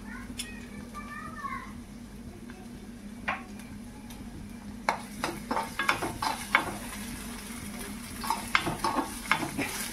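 Onion and tomato sizzle faintly in a pan while a spoon scrapes and clinks against the metal in uneven strokes, with someone talking over the stirring.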